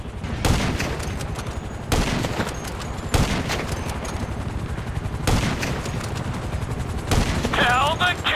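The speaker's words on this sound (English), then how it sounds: "Stop shooting at us!" Gunfire aimed at the players in Grand Theft Auto V, heard as heavy bursts of automatic fire repeating every second or so over a steady rumble of game noise, with voices talking.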